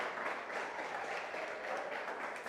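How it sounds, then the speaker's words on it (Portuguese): A church congregation applauding during a sermon, a steady, dense wash of clapping held at an even, fairly soft level throughout with no voices over it. "Aplauda a salvação maravilhosa de Jesus."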